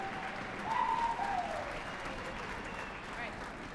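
A concert audience at a youth symphony orchestra event applauds steadily, with some speech over it, from a moderate distance in a hall.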